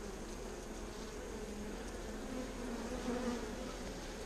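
Honey bees buzz steadily at a hive holding a newly caught swarm with open brood and queen cells, a dense continuous hum staying close and even throughout.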